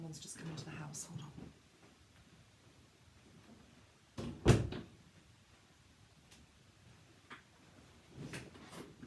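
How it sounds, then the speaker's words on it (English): A door in a house closes with one firm thud near the middle, after someone speaks quietly in a dim, hushed room, followed by faint shuffling and further soft speech. "I'm just going to close my door as well"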